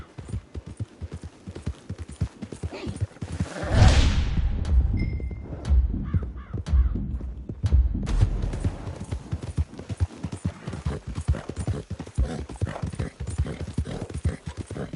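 Horse hooves clip-clop in a steady rhythmic gait while riding in the video game Red Dead, with crows cawing over the top and a rumbling musical bed joining partway through.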